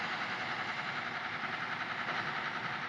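A Hitachi engine aboard a six-thousand-ton cargo ship runs quietly, giving a steady, even mechanical hum with a faint knocking texture that continues without a break.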